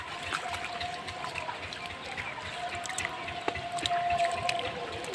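Irrigation water runs into a field of paddy seedlings, making a soft, continuous trickle and gurgle that stays faint and steady throughout, with no voices.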